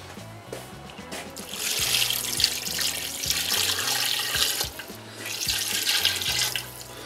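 Tap water runs steadily into a cooking pot, filling it to cover couscous royal ingredients, a continuous close splashing stream with faint background music underneath.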